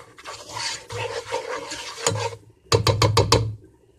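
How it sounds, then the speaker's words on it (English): A spoon stirs apple pie filling with cinnamon in a bowl, giving a continuous scraping rasp that pauses briefly and then returns as several short rhythmic strokes, close and clear. "I'm going to go ahead and stir that."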